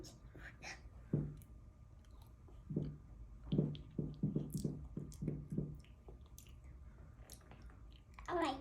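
A young child chews food at close range, giving soft, wet mouth clicks and smacking in an uneven rhythm against a quiet indoor background, with faint voices now and then.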